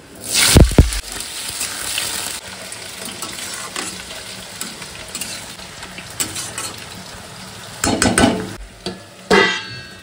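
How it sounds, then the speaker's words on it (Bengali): Potatoes frying in hot oil with panch phoron and bay leaf, a loud burst of sizzle as they drop in, then crackling and spoon-stirring clatter with further spikes of frying noise, no talk. "তেলটা গরম হয়ে গেছে, পাঁচফোড়ন আর তেজপাতা দিয়ে দিয়েছি, আর এবার আলুগুলো ভেজে নেব।"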